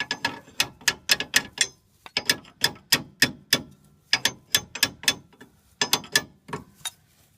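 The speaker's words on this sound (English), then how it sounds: "So we'll go ahead and start tightening it down." A hand ratchet tightens the U-bolt nuts on a leaf spring helper being installed on a vehicle's bottom leaf, giving bursts of rapid, loud, close clicks in repeated strokes with brief pauses between sets.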